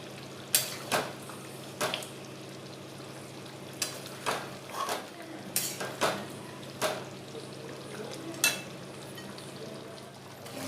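Chicken curry being stirred in a pan after ground garam masala is added, with irregular utensil scrapes and clinks against the metal over a steady low sizzle, close and moderately loud, no talking.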